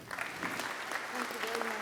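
Applause rolls through the audience at a business session award presentation, moderately faint and steady, with some talking audible underneath.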